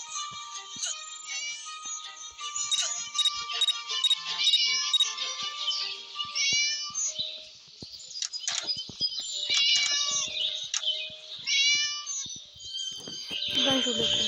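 A cat meows repeatedly in a series of high, drawn-out cries with some jingling, fairly close and clear, while a person talks at times over it.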